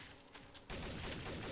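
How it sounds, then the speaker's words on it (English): Gunfire in Garry's Mod Trouble in Terrorist Town, faint and distant at first, then a dense, continuous burst of rapid shots. "There's bullets going off."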